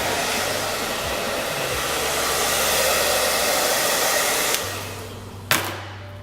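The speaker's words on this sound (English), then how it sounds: "I'm just lightly holding the blow dryer on top of the hair" A hair dryer blows on hair with a steady, loud whoosh, briefly shifting in tone near the end as it is moved or switched.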